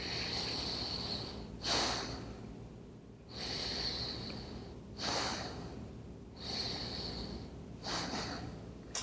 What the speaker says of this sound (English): So let's just take a couple of breaths in together.